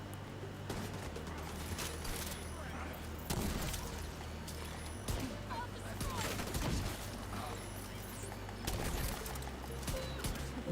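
Enemy rifle fire in The Division 2 sounds in scattered bursts, loud cracks and rattling volleys recurring irregularly over a steady mechanical background, with a voice talking in between.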